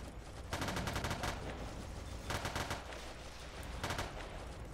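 In a low-budget war video game, automatic gunfire rattles in three rapid bursts separated by a steady background rumble, moderately loud and without talking.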